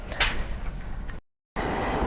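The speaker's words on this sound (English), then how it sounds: "Inside you've got these 2 internal storage drawers, so they just come out like that" Internal storage drawers in an SUV camper slide out with a rolling, scraping rush of sound, then a short silent gap and more sliding noise, close and fairly quiet.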